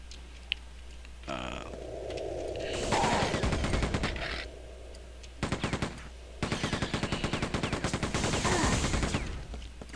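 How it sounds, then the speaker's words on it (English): Machine gun fire in the video game Quake II, heard as rapid sustained bursts of rattling shots in two long volleys over a low steady game hum, with no talk. "For some reason, the machine gun is the only weapon that has kickback, so when you fire it, you notice that it starts pointing upwards"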